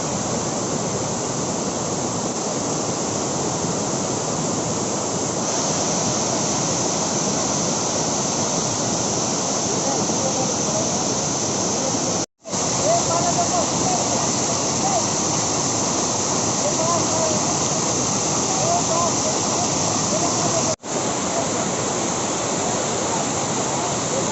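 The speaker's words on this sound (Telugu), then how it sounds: "మనం ఇప్పటిదాకా వాటర్ ఫాల్లో ఒక ఫేజ్ చూసాం" Tirathgarh waterfall in Jagdalpur roars loudly in a steady, dense wash of falling water that fills the whole clip, broken only by two brief dropouts.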